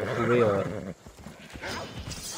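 Horse sounds while riding through Assassin's Creed Odyssey: a loud neigh and whinny opens, then softer hoof clip-clop carries on beneath a voice talking in French.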